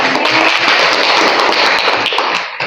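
Classroom applause rings out as a burst of many hands clapping, dense rapid slaps at even loudness for a couple of seconds before thinning at the end.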